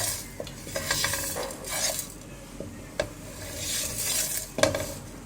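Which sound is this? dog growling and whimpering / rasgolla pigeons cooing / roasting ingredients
roasting ingredients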